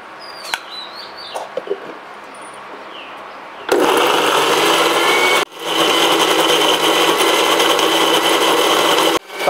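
An electric grinder churns boiled vetkul greens for a prawn recipe, a loud steady whir kicking in, stopping briefly, then running again, after quieter outdoor bird clucks.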